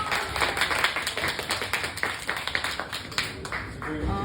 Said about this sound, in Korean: 이럴 때 박수 한 번 주시면 좋을 것 같아요.